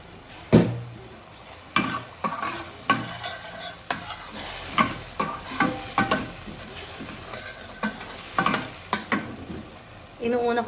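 Soy sauce hisses into a pan of mushroom adobo with chicken liver and gizzards, a steady close sizzle broken by repeated scraping stirs and clacks of a utensil against the pan.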